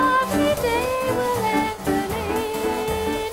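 A school jazz group plays a lively tune at a local charity show, with sustained horn-like melody lines over a steady rhythmic bass, loud and continuous with no talking.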